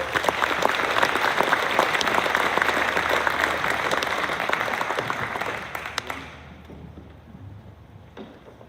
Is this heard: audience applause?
yes